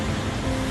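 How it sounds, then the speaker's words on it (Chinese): Steady rain falling outside on a cold, wet day, a constant soft hiss with a faint low hum beneath it and no voices. "外面的雨是一直停不下来的，一下雨天就更冷了。"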